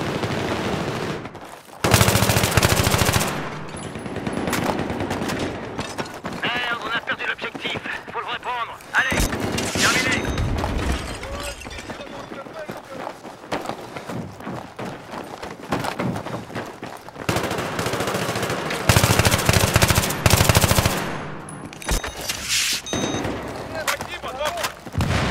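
Bursts of rapid machine gun fire in the video game Battlefield 3 rattle loudly and repeatedly, with sustained volleys, brief pauses and occasional voices in between.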